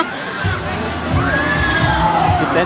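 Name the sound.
crowd of people shouting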